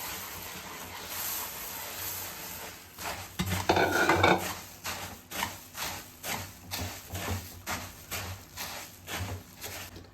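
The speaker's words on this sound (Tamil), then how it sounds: "பொரி போட்டு மிக்ஸ் பண்ணிக்கலாம்." Puffed rice being stirred into hot syrup in a pan for pori burfi, a burst of crackling hiss followed by a steady series of rhythmic scraping strokes of a spoon against the pan, close and moderately loud.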